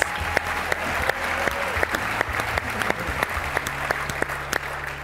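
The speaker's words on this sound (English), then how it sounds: "You guys give them a round of applause." A crowd at a Visalus Europe health and prosperity event gives a round of applause, sustained clapping with sharp individual claps standing out over a low hum and murmur.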